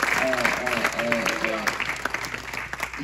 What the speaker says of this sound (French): Si on peut les applaudir une dernière fois.